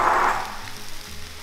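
Shrimp hitting a hot pan for fried rice, giving a loud burst of sizzling at first that settles into a softer, steady fry over the next second.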